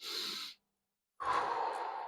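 A person doing a breathing exercise for stress relief: one breath, a pause of silence, then another long airy breath, close and alone with no talk.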